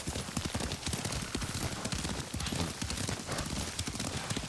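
Horse hooves clip-clop steadily while a rider travels on horseback in the Ghost of Tsushima video game, a dense continuous rhythm of hoofbeats over a busy background, with no speech.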